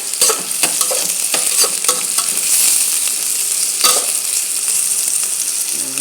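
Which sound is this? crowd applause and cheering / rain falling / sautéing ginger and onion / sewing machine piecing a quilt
sautéing ginger and onion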